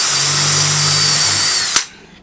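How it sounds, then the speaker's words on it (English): A power drill whines at high, steady speed for under two seconds while drilling a hole in the side of a DIY acoustic panel, then cuts off sharply and winds down to quiet. "I'm going to take my drill"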